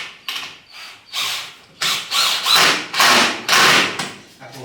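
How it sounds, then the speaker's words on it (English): A power drill drives a screw into a wooden garden gate in short repeated bursts, each a loud whirring grind that rises and stops, close by, with brief pauses and a light knock at the end. "I'm just going to put in a scale screw just to hold it in place."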